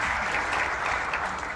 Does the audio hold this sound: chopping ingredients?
no